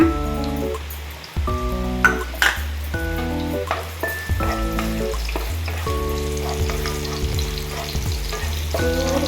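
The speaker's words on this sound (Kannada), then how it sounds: "ಎಣ್ಣೆ, ಮೊದಲಿಗೆ ಬೆಳ್ಳುಳ್ಳಿ ಹಾಕೊಳ್ಳೋಣ." Garlic frying in a few spoons of hot oil for a spicy pepper chicken fry, a steady sizzle with scattered crackles and occasional utensil clinks, close and fairly loud throughout, with music playing beneath it.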